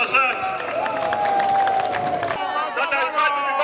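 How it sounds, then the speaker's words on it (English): A crowd at a political rally cheers and claps in a dense, loud burst, with whistles and shouting rising over the noise and a brief dip before it swells again. "Clap for yourself."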